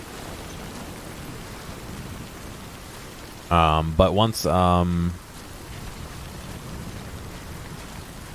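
Heavy rain in Death Stranding, a steady broadband hiss of downpour that runs the whole stretch, with a voice briefly talking over it midway.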